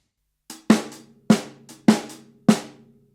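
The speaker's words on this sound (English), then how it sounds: "we're going to be playing 4 strong snare drums" A drum kit plays a short funk break: four strong, evenly spaced snare strikes, each preceded by a light hi-hat or ghost note, close and dry with no talking.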